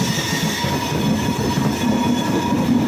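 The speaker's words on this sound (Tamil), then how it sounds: "India's longest train Vivek express Kanyakumari to திபுர்கா வரைக்கும் போகக்கூடியது" The Vivek Express passenger train, 22 coaches, rolls out of the Nagercoil pit line toward Kanyakumari: a close, loud, continuous rail rumble with wheels squealing on the track throughout.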